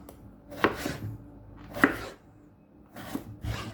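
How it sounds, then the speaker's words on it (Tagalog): Knife chopping vegetables into fairly large cubes on a cutting board, four distinct thuds spaced over a few seconds, close and clear with no talking. "Slice into cubes lang natin."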